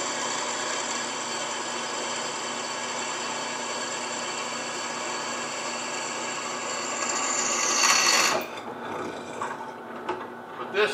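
A drill bores steadily through the tang of a knife made from leaf spring steel in a forging workshop, a continuous grinding whir that swells near the end before stopping, followed by faint handling noises.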